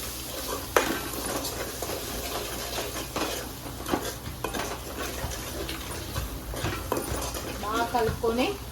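Fish curry masala with salt, chilli and coriander powder being stirred in a pot, a steady scrape and clatter of spoon against metal with light sizzling underneath, continuous and close.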